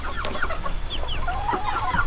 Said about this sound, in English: this is the son of Luigi, the red rooster